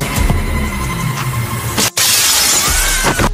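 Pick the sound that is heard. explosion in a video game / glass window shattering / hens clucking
glass window shattering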